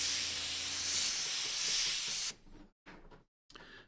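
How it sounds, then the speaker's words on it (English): An airbrush spraying paint at about 22 PSI while a vehicle is painted gives a loud, steady hiss for a little over two seconds, then stops; a few shorter, quieter bursts follow with brief silent gaps. "I am spraying at about 22 PSI right now."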